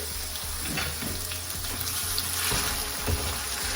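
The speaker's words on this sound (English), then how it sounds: "I'm just going to let that cook in with the oil and the onions" Minced meat sizzles steadily in hot oil with browned onions for dum keema, a dense, continuous frying hiss with faint scraping, close and fairly loud throughout.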